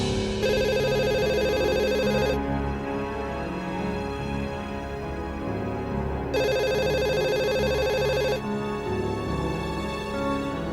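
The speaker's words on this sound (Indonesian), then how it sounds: "Suara telepon." A telephone rings at night in two long electronic bursts of trilling tone separated by a short gap, loud and close over a low musical background, with no talking.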